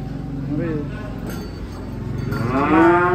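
A four-month-old calf moos in a drawn-out, rising call near the end, with an earlier shorter moo, close by, while people talk around it at a livestock contest.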